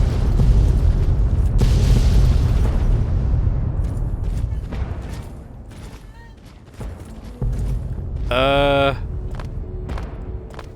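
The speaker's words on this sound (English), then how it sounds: "Look at all the explosions." Explosions rumble in Fallout 3 near Raven Rock, a dense low roar of overlapping booms that gradually fades, followed by scattered bursts and a sharp electronic sound near the end.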